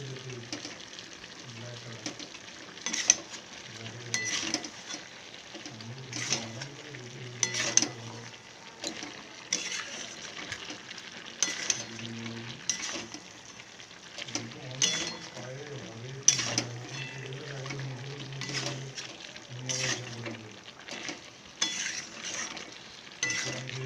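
Chicken kosha with ginger is stirred and fried in a pan, a steady sizzle broken by repeated scraping and clinking of a spoon against the pan, close up, with occasional speech.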